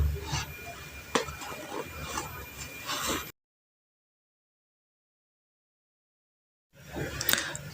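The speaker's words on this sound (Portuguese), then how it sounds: "Agora a gente pega a aba e coloca para dentro." A fabric flap is tucked into a sewn multipurpose pouch, giving soft, close rustling and rubbing for a few seconds, then a stretch of silence before more faint handling of the cloth.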